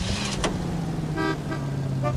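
A car is driven through city streets in L.A. Noire, with a steady low engine drone and two short horn toots from nearby traffic.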